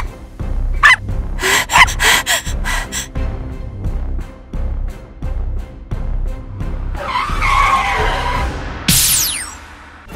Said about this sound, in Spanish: El coche se nos ha parado, no sé qué es lo que pasa.